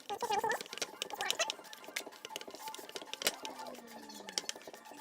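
Plastic body filler mixed with an applicator for fitting car side skirts: soft, quick scraping and tapping strokes in an irregular rhythm, faint and close, with a voice speaking at times.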